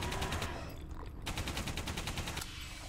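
Rapid automatic gunfire in the video game Alien Breed Impact, a dense, loud stream of repeated shots running almost continuously with a brief lull.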